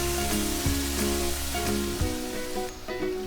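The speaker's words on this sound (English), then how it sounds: "Then in a hot pan add the marinated chicken." Marinated chicken for a Goan vindaloo sizzles steadily in a hot pan, a loud continuous frying hiss, with background music playing throughout.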